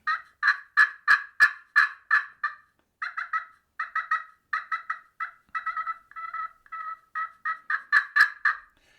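A bacote wood turkey call imitates a hen's purring with a series of soft, rapid rolling calls in bursts, close and clear, with brief pauses between groups.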